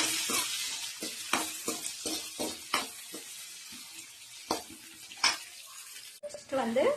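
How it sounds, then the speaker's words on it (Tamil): Onions fry in a pan, with a low sizzle under repeated sharp scrapes and clatters of stirring, and a brief voice near the end. "நெக்ஸ்ட் ஆனியன் நல்லா ஃப்ரை பண்ணணும்."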